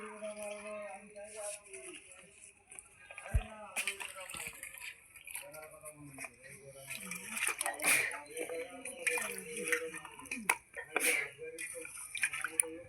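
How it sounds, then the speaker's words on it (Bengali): Carrots, capsicum and other cut vegetables are rinsed together under water, with intermittent splashing, trickling and dripping close by, plus light clinks of handling. "একসাথে সবজিগুলো ধুয়ে নিলাম।"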